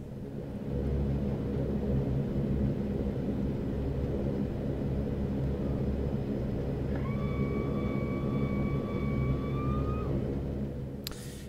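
A Saab 340A turboprop in the X-Plane flight simulator slows on the runway under reverse thrust, a loud steady rumbling roar held throughout with faint rising tonal whines appearing near the end before it cuts off.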